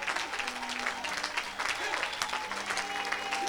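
A church congregation applauds to acclaim Jesus, a dense, steady wash of clapping that holds for several seconds, with voices calling out within it.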